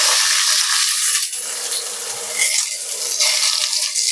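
Sliced onions dropped into golden fried garlic in a hot pan, a loud, dense hiss of frying that dips and swells as the pieces are tossed, close up and without any voices.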